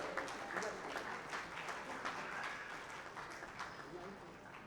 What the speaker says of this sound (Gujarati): આ લોકોને બધાને આપણે જોરદાર તાળીઓથી વધાવવાના